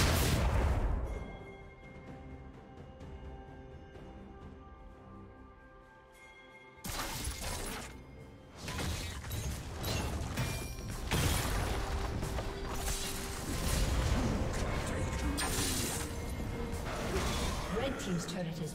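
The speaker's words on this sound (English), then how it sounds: "Team's turret has been destroyed." A turret being destroyed in League of Legends: a loud crashing impact, then a long stretch of shattering, booming and mechanical collapse with repeated bursts, mixed with game effects and voices.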